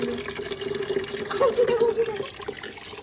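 Water gushing from a turned-on household tap, a filling splash under voices talking nearby.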